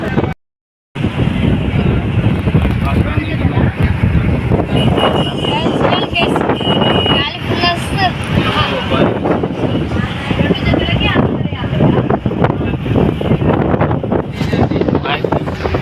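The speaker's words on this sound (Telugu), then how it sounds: "ఫుల్ గాలి వచ్చింది" Strong wind buffets and roars across the microphone almost continuously, loud and gusty throughout, briefly cutting out near the start.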